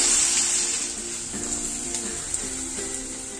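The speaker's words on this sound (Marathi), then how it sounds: "आता आपलं लसूण चांगला लाल झालेला आहे, त्याच्यामध्ये हा वाटलेला वाटून घालूया. त्याला छान परतून घेऊ." Ground masala paste frying in oil with reddened garlic for a Konkan-style crab masala, giving a steady loud sizzle that hisses continuously and eases off slightly.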